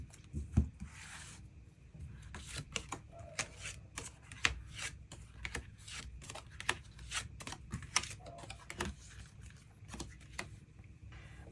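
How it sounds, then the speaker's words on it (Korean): Tarot cards are shuffled and drawn by hand close to the microphone, giving a dense run of crisp flicks, snaps and papery riffles in quick irregular bursts throughout, with no talking. "그럼 5번 분들 추가 카드로 일별로 월요일부터 일요일까지 어떤 하루를 보내게 될지 추가 카드 뽑아보도록 하겠습니다."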